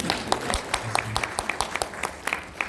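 Audience at a spiritual gathering claps for Shakti Dev, a scattered burst of hand claps with uneven rhythm, fairly close and moderately loud, with no talking over it.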